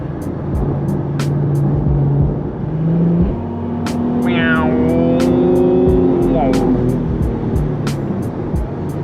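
Ford Mustang being driven, its engine droning and rising through revs with gear-change steps and rising whines inside the cabin, a voice talking over it at times.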